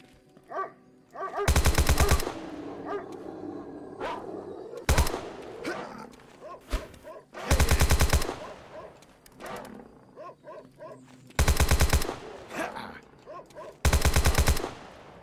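A video-game AK rifle fires five loud, sustained automatic bursts of a second or less, separated by quieter gaps of ambient rustling and faint background sounds.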